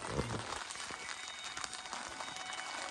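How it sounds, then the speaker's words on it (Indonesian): Steady rain falling at night on a mountain campsite on Gunung Sumbing, a dense continuous hiss of drops on surfaces with a brief low thump near the start. "Dan hujan, itulah."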